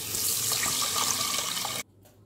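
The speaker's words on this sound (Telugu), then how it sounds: "ఎసరైతే పోస్తామండి" Water runs steadily from a tap into a cooking pot for chicken biryani rice, a loud continuous broadband pour that stops abruptly near the end, leaving quiet room tone.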